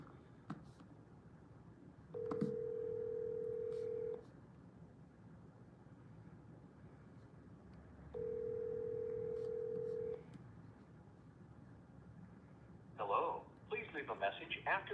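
Two long ringback tones pulse on an outgoing call to a house phone, each lasting about two seconds with a gap between, heard faintly over background noise, with brief clattering near the end.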